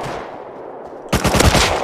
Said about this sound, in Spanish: Otro borde dispara encima de su casa